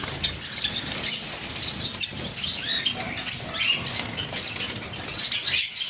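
Wings flapping and fluttering constantly from java sparrows, cockatiels and other caged birds for sale in a shop, a busy close flutter with soft scratching and faint chirps.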